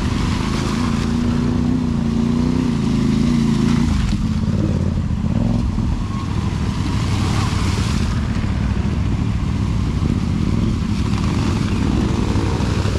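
CFMOTO 450MT adventure motorcycle ridden off-road on a trail with river crossings, its engine droning steadily and loudly throughout with a shifting pitch, rough and continuous with no talk.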